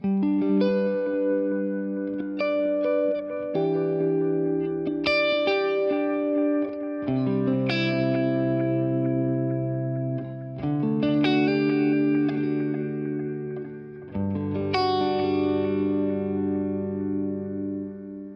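Electric guitar plays sustained chords and single notes, each ringing out with a soft repeating echo trailing behind it; no voices.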